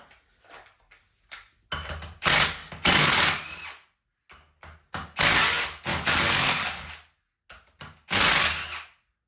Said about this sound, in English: now that I got all the ring gear bolts torqued down